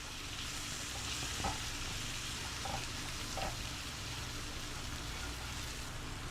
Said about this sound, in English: I'm going to add what we call butter to the pan. And we're going to start just cooking out the flour.